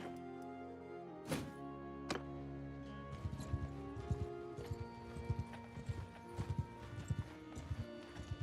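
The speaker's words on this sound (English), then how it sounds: "let's get a horse going so we can get a bit more speed" Horse hooves clip-clopping in a Warhammer-style strategy video game, a run of quick, irregular hoof strikes that build into a steady trotting rhythm after a couple of louder opening thuds, heard alone at a modest level.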